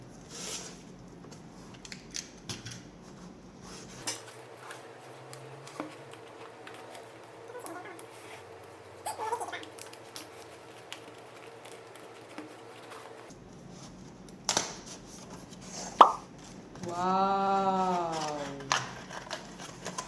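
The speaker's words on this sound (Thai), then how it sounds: "เราจะมาแกะกล่อง Apple Pencil กัน" An Apple Pencil package is unboxed by hand, with quiet crinkles, taps and small plastic clicks scattered across a long stretch, a louder handling burst near the end, and a steady low hum beneath.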